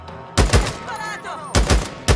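Gunfire in the video game Days Gone, sharp loud shots in small bursts, two quick ones, a pause filled with a character's voice, then two more.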